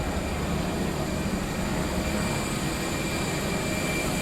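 A steady, loud roar of an aircraft engine fills the air near Disneyland as a plane passes overhead, a broad continuous rumble holding even for several seconds with no voices.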